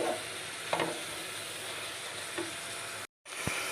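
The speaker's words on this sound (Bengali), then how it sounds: "তেলটা গরম হলে আমি চিকেনগুলো দিয়ে দিলাম। ফ্রাই না হওয়া পর্যন্ত চিকেনগুলো ভাজতে লাগলাম" Chicken frying in hot oil in a pan, a steady close sizzle with a few soft stirring clinks and a brief cut near the end, no talk.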